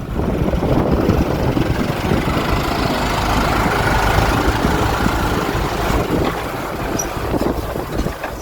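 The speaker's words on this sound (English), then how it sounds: "he's just setting up the tractor and he's about to go into the field" Farm tractor engine idling as it is readied for field work, a loud, steady low rumble with a constant throb and some wind across the microphone, running unbroken throughout.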